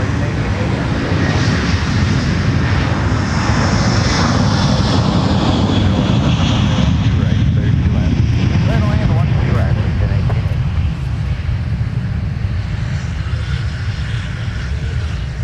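A Northwest Airbus A330-200 heavy takes off at MSP airport bound for Dublin, a loud sustained jet engine roar that stays steady throughout, with faint voices talking underneath.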